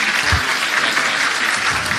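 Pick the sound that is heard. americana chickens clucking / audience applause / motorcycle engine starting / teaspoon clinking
audience applause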